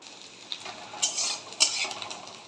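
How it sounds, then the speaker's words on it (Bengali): Grated coconut frying in a wok, a quiet background hiss broken by a few soft scraping and stirring clicks from the spatula, with no voices. "এই সময়তে আমি একবার নারকেলটাকেও ভেজে নেব"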